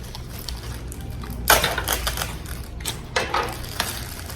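Packaging for a Kindle and its fabric cover being opened, with crinkling, tearing and rustling of paper and card in short bursts, near and moderately loud.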